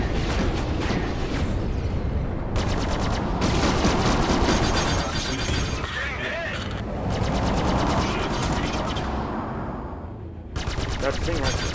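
Spaceship cannons in Star Citizen during a Vanduul swarm fight, loud sustained bursts of rapid gunfire with brief gaps, mixed with blasts and impacts.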